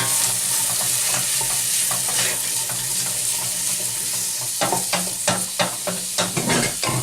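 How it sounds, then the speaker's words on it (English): Vegan chilli being stirred as it fries in a pot, with a steady sizzle throughout and scraping spoon strokes that grow more distinct and rhythmic toward the end, close and with no talking. "Give it a good stir."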